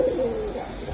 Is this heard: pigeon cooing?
yes